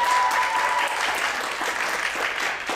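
An audience breaks into sustained applause, a dense, steady wash of many hands clapping at fairly close range throughout, with a faint tone near the start and no clear talking over it.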